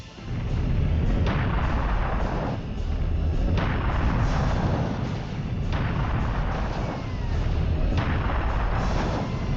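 Serious Sam: The First Encounter gameplay with a biomech enemy firing rockets inside the Great Pyramid, heard as a loud continuous barrage of booming blasts and thuds that swell and recur every couple of seconds.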